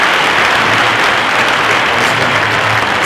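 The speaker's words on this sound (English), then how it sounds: "Give a round of applause, please." Dense, steady clapping from an audience at a memorial gathering honoring Army Spc. Adam S. Hamilton fills the whole stretch, loud and close with no voices over it.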